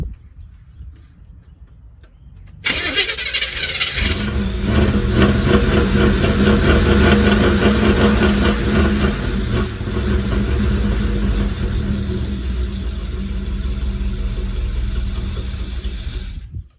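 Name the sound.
Camaro engine running rough, starving for fuel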